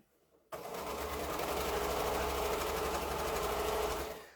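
Sewing machine stitching a quilt block seam: a quiet pause, then a steady, fast mechanical whir that runs for about four seconds before stopping.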